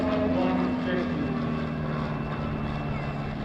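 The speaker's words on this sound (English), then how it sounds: "Here's tail end Charlie in the Cessna 150." Cessna 150 high-wing light plane passing at an airshow, a steady droning engine hum held at moderate level throughout, with a talker's voice mixed in over it.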